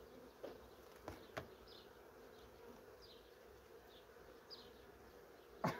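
Honey bees hum softly in an open beehive while a beekeeper sets a protein patty on the frames. The faint, steady buzz is broken by a few light knocks and clicks.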